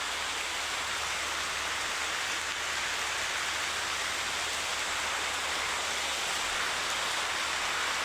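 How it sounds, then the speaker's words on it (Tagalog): Heavy rain pours down in a dense, constant hiss, loud and unbroken throughout with no voices. "Grabe yung ulan."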